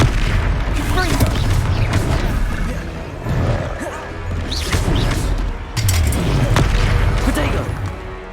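Confringo spell blasts and other combat spells in Hogwarts Legacy on PS5: loud, dense booms and crashing impacts follow one another over a thick game soundtrack.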